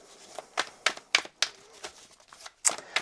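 Rider-Waite tarot cards being shuffled by hand, a series of quick crisp riffling flutters and soft slaps in an uneven rhythm, close and fairly quiet, with no talking.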